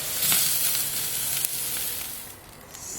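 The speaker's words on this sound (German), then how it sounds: "Mehrmals wenden mit direkter Hitze, sodass es die wunderbaren Grillstreifen gibt." Ribeye steak on a grill over direct heat sizzles steadily and close up, with a brief sharp tap from handling partway through.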